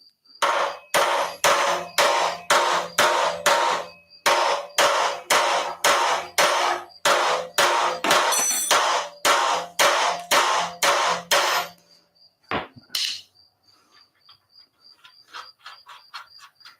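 Old rust is scraped off the wheel studs of a car in an automotive shop, a loud rapid series of rhythmic rasping strokes in steady bursts with short gaps, followed by a metallic clink and quieter scattered scrapes.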